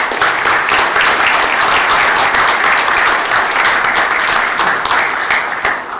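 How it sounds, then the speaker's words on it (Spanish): Loud, sustained applause from a conference audience welcoming panel guests, a thick, even roar of many hands clapping from start to finish, with no talking over it. "recibamos todos con un fuerte aplauso a nuestros invitados"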